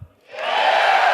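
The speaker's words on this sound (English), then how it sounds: "You're gonna applause after every sentence." A live crowd at a Destiny 2 gameplay reveal event bursts into loud cheering and applause after a short thump, the roar building quickly and holding steady.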